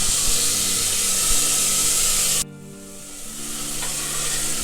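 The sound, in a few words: chopped tomatoes sizzling in a pan for bottle gourd curry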